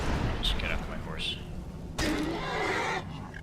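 A horse neighs in the video game Skyrim, two distinct whinnies in the first half followed by a louder burst of game noise, with someone talking over it.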